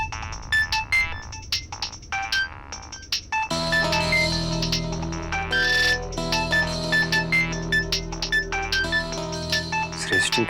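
A phone ringtone plays a bright electronic melody, then shifts into a louder, fuller musical ring that continues steadily.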